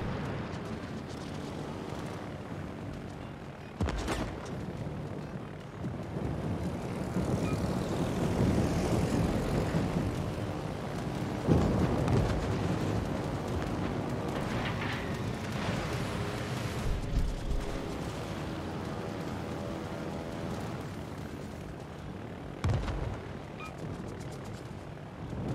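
Skip bomber aircraft from World of Warships roar through a bombing run, a sustained loud propeller-engine drone with sharp blasts and rumbling impacts scattered across the long pass, no voices.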